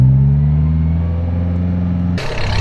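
A Ferrari 308 engine revs steadily while driving, a loud, close, continuous mechanical drone with a shift in pitch near the end.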